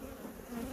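Honey bees buzz steadily around an open hive during a frame inspection, a continuous close insect hum at a soft, even level with no talking.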